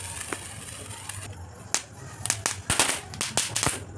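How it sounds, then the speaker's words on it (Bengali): Small firecrackers bursting outdoors in a quick irregular string of sharp pops and cracks, several overlapping, fairly close, with faint voices around them. "এই চটপটি ফাটছে"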